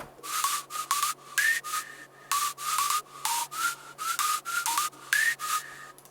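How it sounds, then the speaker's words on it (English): A synthesized whistle lead, layered on top of other leads in an FL Studio 12 remix, plays a bright melodic line in short repeated bursts with pitch slides, breathy noise beneath each note, no voices. "The whistle lead layer, which is on top of all the leads."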